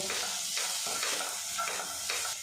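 Vegetables with chilli and chopped tomato are stirred in a frying pan for a flour-and-vegetable breakfast snack: rhythmic scraping strokes about twice a second over a constant bright sizzle, close by and without speech.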